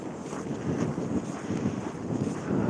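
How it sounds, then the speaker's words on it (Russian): Steady outdoor wind gusting against the microphone in frosty, windy Yakutsk at about minus 36 degrees, a broad low roar swelling and easing in waves with no speech. "Сегодня немножко еще ветрено"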